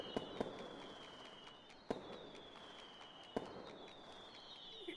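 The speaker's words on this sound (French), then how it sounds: "J'attends que les feux d'artifice" Fireworks go off outdoors during a wedding reception, heard as scattered sharp distant bangs and pops over a faint crowd murmur and a thin steady tone, with no talking.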